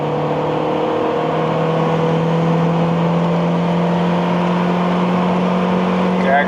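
A 1989 Honda Accord LXi coupe with an OBD0 system and 350,000 miles drones along under gentle throttle, a steady, fairly loud engine hum from inside the car that holds a near-constant pitch throughout.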